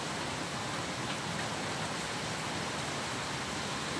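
Rain falls steadily outdoors, a soft continuous hiss of drops spread evenly over surfaces, faint and unbroken with no voices.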